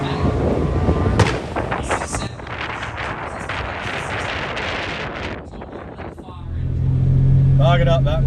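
A turbocharged V6 Ecotec drag car launches hard at a drag strip, a loud, roaring, wind-buffeted engine blast that stays full for several seconds, dips, then surges again with a steady low drone near the end.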